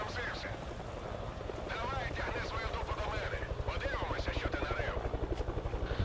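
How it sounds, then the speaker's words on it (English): A helicopter's rotor thumps in a steady rapid pulse, loud and near, in S.T.A.L.K.E.R. 2 gameplay, with talking layered over the noise. "Why am I hearing helicopter sounds?"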